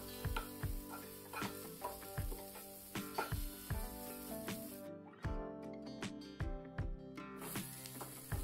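Chopped parotta and beef are tossed together on a hot street-food griddle, sizzling steadily under repeated sharp metal clanks of spatulas striking the pan in a choppy rhythm.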